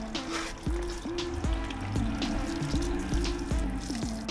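Tap water runs over muddy, dirty parts being rinsed, a steady trickle and splash close by with small shifting gurgles and drips, and nobody speaking.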